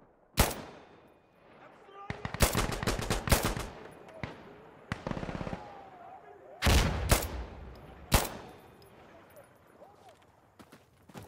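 Scoped SCAR rifle shots ring out in the Insurgency Sandstorm video game: sharp single cracks and short rapid bursts spread across the stretch, loud against a quieter backdrop, with faint voices underneath.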